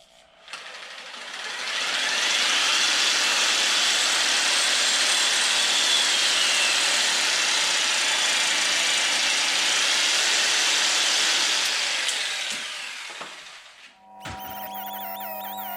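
A jigsaw makes a rough cut in a part for a supercharger install on an X2, a loud steady buzzing drone that runs unbroken for about eleven seconds before stopping, followed by quieter clattering.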